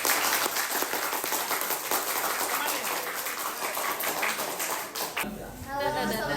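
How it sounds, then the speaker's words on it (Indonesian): A classroom claps for a student group coming up to present, giving several seconds of dense, close-range applause that breaks off as a voice starts speaking. "tepuk tangan dulu."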